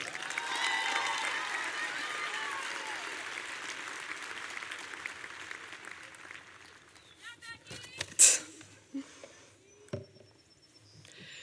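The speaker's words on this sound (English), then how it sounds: "Let's give a nice round of applause for your salutatorian, Rebecca Schushheim." A graduation audience at Staples High School in Westport, Connecticut applauds the salutatorian in 2023, with dense, steady clapping for several seconds that fades into scattered claps, shuffling and a few sharp knocks.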